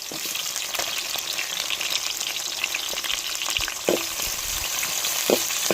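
Green chillies and onions fry in hot oil with steady crackling sizzle, joined by a few brief stirring scrapes near the end, with nobody speaking.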